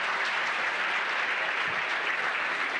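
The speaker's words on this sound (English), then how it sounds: "Let's clap for those who are 50 and above and they're in the room." Steady, dense applause from an audience at a book launch event, continuous clapping from many people filling the room without pause.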